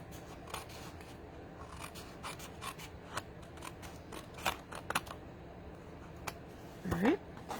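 Scissors trimming a sticky craft piece, heard as a few close, soft snips and rustles scattered through a quiet room, with faint handling noise.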